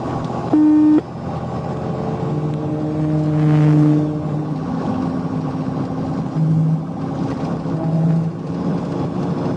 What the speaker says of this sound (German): Während der Verfolgungsjagd fuhr der rote SUV mit hoher Geschwindigkeit auf der Autobahn